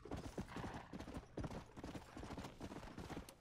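A horse gallops in Red Dead Redemption: Undead Nightmare, with rapid rhythmic hoofbeats continuing throughout, close and steady over a dense game soundscape.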